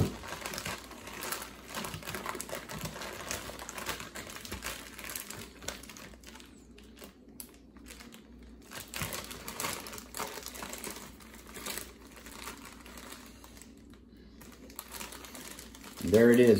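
A Ziploc bag holding sausages and rice crinkles and rustles close up in repeated handling noises, while a person talks over it.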